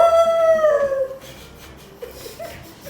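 A person's voice imitates a dog, giving one drawn-out, bending howl that fades after about a second into quieter, breathy noise.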